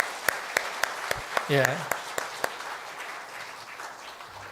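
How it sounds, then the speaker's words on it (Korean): Church congregation applauding during a Sunday worship service, heard as sparse, evenly spaced claps in a hall, with a brief spoken reply from a voice partway through. "우리 박수 한번 하겠습니다."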